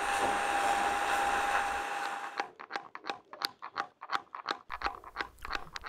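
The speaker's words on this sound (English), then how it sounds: "Here I'm just taking some planishing and truing cuts on the top surface with a nice newly sharpened blade." A steady motor whine runs for about two seconds, then a freshly sharpened blade takes repeated crunching, scraping cuts across the top surface of an upright log carving station, in irregular close bursts.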